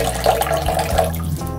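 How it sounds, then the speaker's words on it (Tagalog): Soy sauce is poured into chicken broth in a home kitchen, a short, close liquid trickle and splash lasting just over a second. "lalagyan po natin ng toyo na pampalasa rin"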